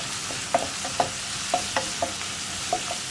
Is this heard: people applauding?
no